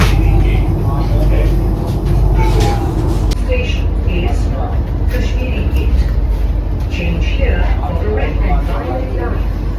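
Loud, steady rumble of a moving metro train heard from inside the carriage, with continuous rolling noise, faint squeals and a voice talking over it throughout.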